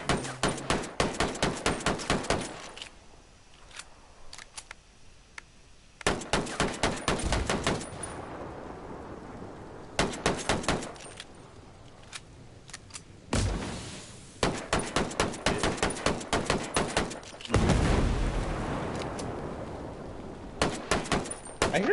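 Rapid bursts of gunfire and booming explosions in a Terminator video game, loud repeated volleys in clusters separated by brief rumbling lulls, with no talking.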